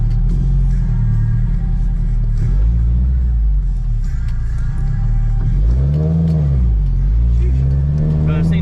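Nissan S14 240sx drift car engine droning loud and close while driving, with steady rumbling revs that swell and dip as the car accelerates and shifts near the end.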